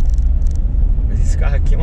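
A high-riding car rolls over a rough dirt road in the countryside, its low engine rumble and bumping steady and close while a person talks over it.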